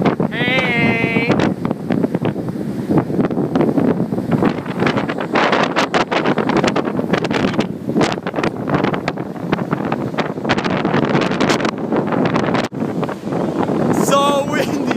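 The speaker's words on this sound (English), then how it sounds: "It's so windy out right now, and it hasn't started raining." Strong wind roaring across a beach just before Hurricane Sandy, loud and continuous as it buffets the microphone for the whole stretch, while people shout and talk over it.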